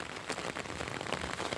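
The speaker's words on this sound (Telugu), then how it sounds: "వాన లైట్గా పడ్డా కానీ పడుతూనే ఉన్నది." Light rain falls steadily on surfaces, a faint, even patter of scattered drops with no talking.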